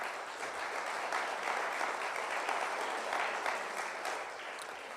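Audience applause at a startup demo day honoring founders, dense and sustained clapping filling the room at an even level from start to finish, with no talking.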